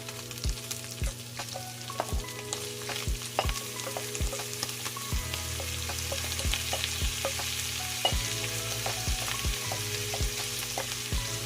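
Bitter melon sautéing with ground pork in a hot pan, a steady close sizzle broken by frequent sharp scrapes and clanks of a spatula stirring, no talking.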